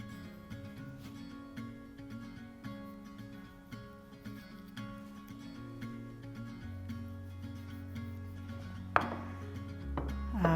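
Sharp knife sliding slowly through grapefruit to cut out segments, a soft steady cutting sound close by with faint clinks of a dish, no talking.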